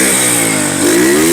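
A Honda motorcycle engine runs loudly up close, idling steadily and then revving slightly, its pitch climbing near the end.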